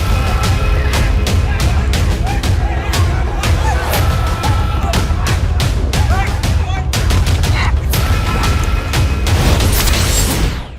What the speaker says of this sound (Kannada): ಬೂತ್ ಮೇಲೆ ಬಾಂಬ್, ಟಿಎಂಸಿ ಹುಮಾಯೂನ್ ಪಡೆ ಕಾದಾಟ.